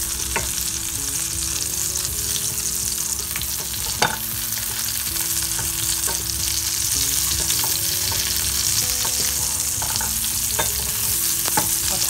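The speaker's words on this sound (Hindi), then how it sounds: "को चलाते हुए हमें फ्राई करना है, नहीं तो ये एक तरफ से जल जाएंगे।" Kebabs frying in a pan and being stirred gently so they do not burn, a constant close sizzle with sporadic scrapes and taps of the utensil, loud and continuous, no voices.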